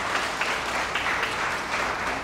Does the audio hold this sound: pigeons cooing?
no